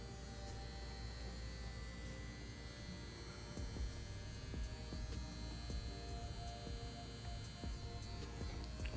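A CNC S1 tattoo machine fitted with a 5-round shader runs dry, giving a steady, close electric buzz with a constant hum throughout, with no voices.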